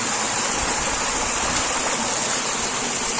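Waterfall and stream water pour steadily from above the falls at a tourism area in Belekha, Nepal, a loud, constant broadband rush with no break.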